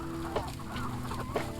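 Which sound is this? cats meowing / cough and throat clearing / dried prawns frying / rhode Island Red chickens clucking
rhode Island Red chickens clucking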